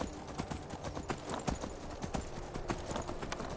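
Horse hooves clip-clop in the Skyrim video game, a steady quick rhythm of hoof strikes at moderate volume, continuous for several seconds with no speech over it.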